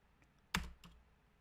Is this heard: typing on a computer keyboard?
yes